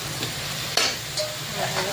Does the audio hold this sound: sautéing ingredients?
yes